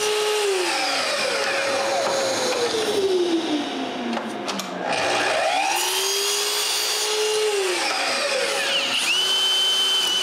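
A power saw whines loudly as it cuts plywood for a snowmobile build, its motor pitch sagging under load and rising again between cuts, close and continuous.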